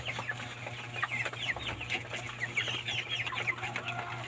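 26-day-old broiler chickens in a cage give soft, overlapping clucks and chirps throughout, close but fairly quiet, over a steady low electric fan hum.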